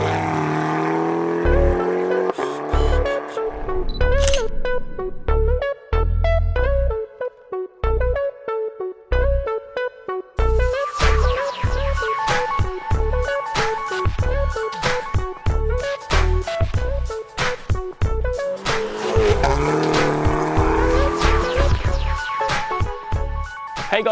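A Stage 3 tuned Mk6 Volkswagen Golf GTI drives hard, its engine loud and close, surging and revving through repeated bursts and gear changes with sharp pops between pulls.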